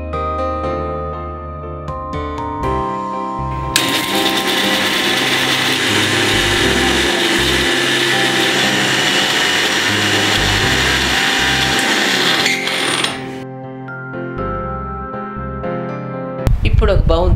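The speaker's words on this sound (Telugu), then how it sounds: "ముందుగా ఒట్టి పెసరపప్పుని మిక్సీలో వేసి పొడి రెడీ చేసుకోవాలి." A kitchen mixer grinder pulverises dry split moong dal into powder, a loud, harsh, continuous whirring roar lasting about nine seconds, with quieter tonal background sound before it starts and after it stops.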